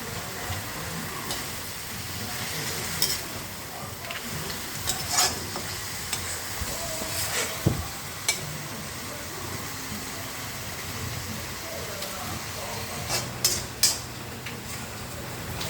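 A fish head frying in oil in a pan for kochu shak, a steady soft sizzle broken by repeated scraping and clinking stirs, close and fairly quiet with no talking.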